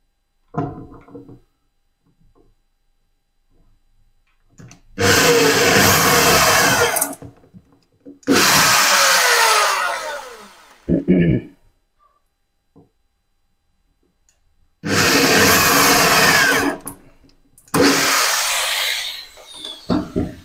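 A power drill boring holes to fit a kitchen hydraulic lift, in four loud sustained bursts of whirring separated by pauses and small handling noises.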